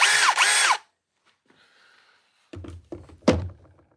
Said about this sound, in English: At full speed, the DCF 870 is not quiet.